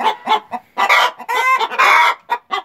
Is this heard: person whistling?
no